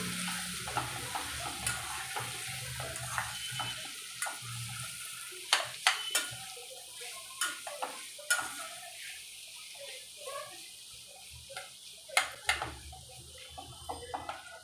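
Bell peppers being stirred in a pan for a Maharashtrian capsicum bhaji, with a low sizzle and irregular scraping and clacking strokes of a spoon against the pan, close and moderately loud, and no talking.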